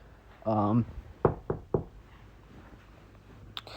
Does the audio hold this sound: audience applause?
no